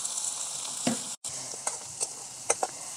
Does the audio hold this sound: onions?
yes